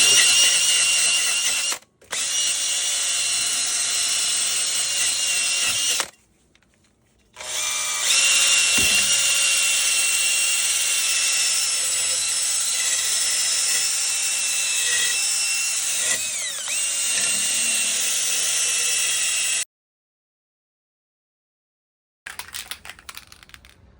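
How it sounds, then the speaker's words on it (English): A wire brush scrubs rust off rear brake parts of a VW Bug in a loud, steady abrasive rasp that runs nearly continuously, broken by a few short pauses and a longer silent gap near the end. "I literally spent 30 seconds wire brushing this thing"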